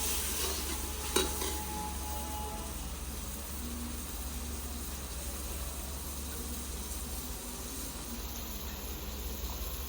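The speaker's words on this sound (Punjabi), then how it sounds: "ਤੇ ਨਾਲੇ ਨਾ ਸੁੱਕੀ ਸੁੱਕੀ ਗੋਭੀ ਬਣ ਜੇ ਕੜਾਹੀ ਦੇ ਵਿੱਚ" Cauliflower sizzles steadily in a kadai on a stove while it is stirred, a constant close frying hiss with a sharp clink near the start and no talk.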